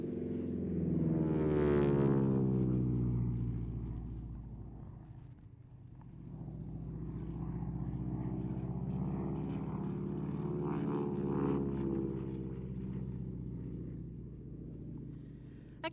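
A propeller aircraft dives to build speed, then pulls up into a head-on loop toward a crowd at an air display, its engine drone swelling with a clear pitch sweep, fading slightly, then climbing again, loud and continuous throughout.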